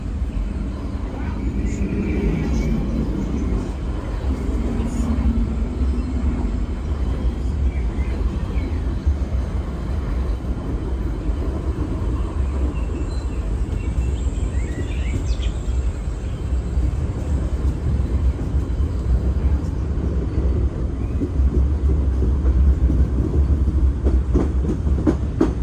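Big Thunder Mountain mining-train roller coaster at Disneyland: a steady rumble of rolling cars with rhythmic clacking along the track, continuous and fairly loud throughout, with faint crowd and ambient noise mixed in.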